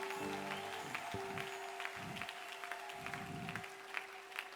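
Applause from a worshipping crowd at a mass prayer service, a steady wash of clapping carried under a sustained musical tone, with bursts of low voices rising and falling throughout.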